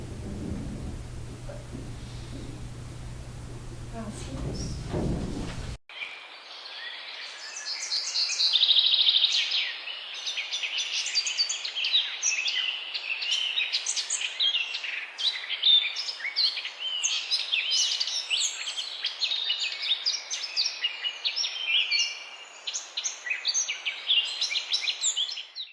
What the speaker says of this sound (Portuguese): alguns sons de pássaros e de animais que por ela passam ou vivem